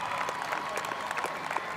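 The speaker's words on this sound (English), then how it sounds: "Would you please give them a huge round of applause tonight on the Sunshine Coast?" A sellout crowd of about 5,000 at the Women's State of Origin rugby league match on the Sunshine Coast applauds, dense sustained clapping that fills the stadium evenly throughout.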